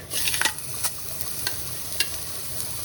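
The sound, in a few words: pork chops frying in a hot pan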